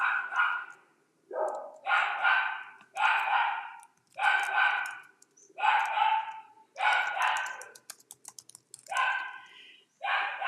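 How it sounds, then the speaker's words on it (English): Two dogs barking excitedly, a fast repeated series of sharp yips and barks at moderate distance, bursts roughly every second with brief gaps between. "You can hear them going really nuts now, the two dogs."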